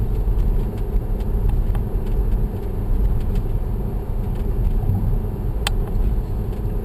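Interior drone of a 2011 Audi A3 engine while driving, a steady low rumble with road noise, continuous and even throughout.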